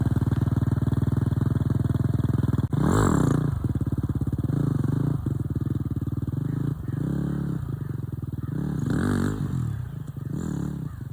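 A 250 dirt bike engine runs loud and close throughout, its steady rumble surging into sharp revs twice as the rider pulls a wheelie.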